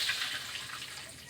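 Water is poured into a cooking pot holding tamarind while making a bottle gourd dish, giving a soft continuous splashing trickle that fades slightly toward the end, with no one talking.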